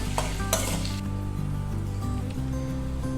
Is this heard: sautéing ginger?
yes